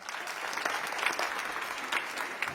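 An audience at a film awards ceremony in Arunachal Pradesh applauds: a short burst of dense, steady clapping from a sizeable crowd that lasts the whole moment without fading.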